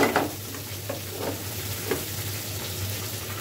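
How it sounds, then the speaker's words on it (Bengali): Chicken fries on a stovetop burner in a steady, close sizzle of hot oil, a constant bubbling hiss broken by a few brief louder pops and stirring clatters, with no speech. "আর পাশের চুলায় চিকেন ফ্রাই হচ্ছে, সেজন্য ভাজার শব্দ পাচ্ছেন।"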